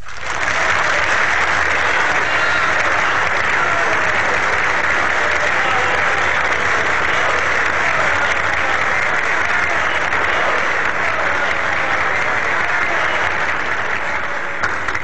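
A large crowd applauds a political speech continuously, a dense, even roar of clapping that holds steady from start to finish.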